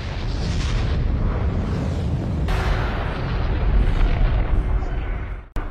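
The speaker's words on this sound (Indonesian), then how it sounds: "Nuklir pun meledak satu persatu berkat timer yang sudah dipasang." Nuclear bombs exploding one after another in heavy, sustained rumbling with deep rolling booms, loud and dense, ending in a sharp cutoff.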